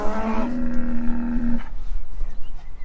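A bull lets out a loud, close moo with a steady drawn-out tone for about a second and a half, then fades into farmyard background noise.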